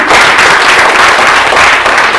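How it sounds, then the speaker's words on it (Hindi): Loud, dense applause from an audience at a live company presentation, continuous and close with no pauses across its short span. "एक बार उसके लिए जोरदार तालियां हो सकती है।"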